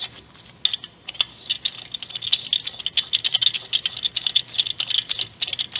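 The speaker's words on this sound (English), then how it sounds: "Screw it in until you feel it make contact with the axle" A suspension press tool with a 19mm head is screwed in against a car axle, giving a steady run of close metallic ratcheting clicks and rattles with no talk.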